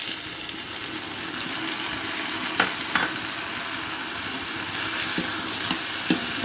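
Soaked flattened rice (chira), soaked in milk, being mixed with mashed banana by hand or spoon, giving a soft, wet squelching and stirring texture with a few light knocks of a utensil against the bowl, close and steady.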